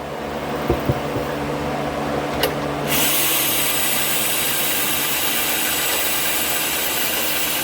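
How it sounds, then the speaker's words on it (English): A power drill whirs steadily at close range after a few light clicks and knocks, its motor hum continuing loud and unbroken as it drives into wood. "And then I just take my drill,"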